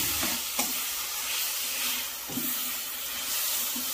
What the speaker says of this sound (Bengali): এবার এইটা দিয়ে চেরি ফল বাটাটা দিয়ে দিলাম, দিয়ে কষে নেব